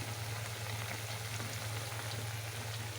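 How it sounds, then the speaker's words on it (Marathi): Kothimbir vadi, coriander fritters, frying in oil, a close steady bubbling sizzle with fine crackles over a constant low hum, alone and without speech. "इथं अशा प्रकारे आपल्याला एक एक हे कट करून आपल्याला तळून घ्यायचे आहेत"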